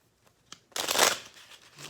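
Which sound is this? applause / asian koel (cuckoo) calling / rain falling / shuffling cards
shuffling cards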